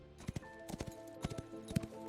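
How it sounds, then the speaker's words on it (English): A standard brown horse mount in the video game Ashes of Creation clip-clops with steady, evenly spaced hoof beats, fairly quiet and alone. "Standard brown horse."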